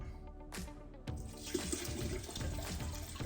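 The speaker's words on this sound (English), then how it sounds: "I really didn't want to be making that much splash" Liquid sloshes and splashes as rosehip mead with yeast is stirred vigorously, a continuous watery churning with a few sharper splashes, close and moderately loud.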